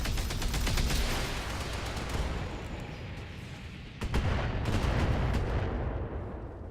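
Mech weapons firing in the game Battletech, a loud continuous barrage of rapid booming shots and impacts, with a brief gap near the fourth second before another dense volley resumes.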